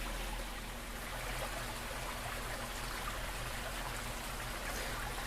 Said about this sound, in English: You can see my waterfall there.